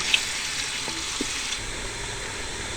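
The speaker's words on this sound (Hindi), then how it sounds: "अब हम इसमें चिकन शामिल कर देंगे।" Chicken pieces frying in hot oil for a layered chicken biryani, giving a steady broad sizzle with a couple of faint clinks, no talking.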